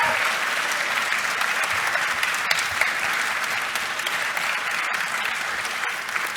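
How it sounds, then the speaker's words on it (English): Audience applause at the close of a Kubernetes conference talk, a dense, steady wash of many hands clapping that holds evenly loud from start to finish with no speech over it. "Round of applause for everybody."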